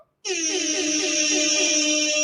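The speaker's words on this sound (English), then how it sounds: "Air horn." A loud, sustained air horn blast starts abruptly after a brief silence and holds its harsh, buzzing tone to the end.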